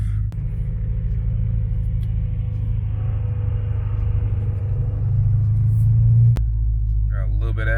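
Engines of BMW cars, including a supercharged M3, F10 M5 and manual E60 M5, rumble steadily at close range as they roll out from a car meet, with a louder low surge near the end and brief voices.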